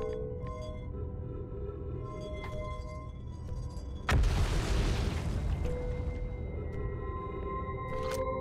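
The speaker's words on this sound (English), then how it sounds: "Call the shuttle home." In the space game Outer Wilds, a gravity cannon recalls the shuttle with a sudden loud whooshing burst that swells midway, then fades into a hum over a steady electronic drone.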